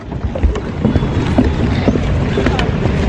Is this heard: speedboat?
yes